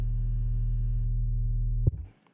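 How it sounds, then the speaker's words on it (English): A steady, buzzy low synth bass tone, a sine wave with slight distortion, holds for almost two seconds, then cuts off abruptly with a short thump. "the carrier of this sound is a sine wave, believe it or not."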